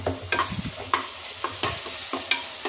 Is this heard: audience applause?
no